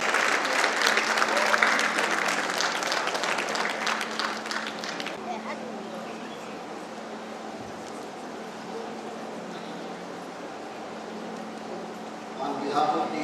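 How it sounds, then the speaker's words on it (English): Standing applause from the audience at a state-level gynecologists' conference, dense and loud clapping for the first five seconds, then fading to a lower murmur of scattered claps and crowd noise, with a brief swell near the end. "please give her a standing applause to our beloved Nandita Pashankar Madam"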